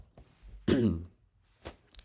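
A single quiet throat clearing and cough in a calm room, followed by a softer second catch of the throat about a second later.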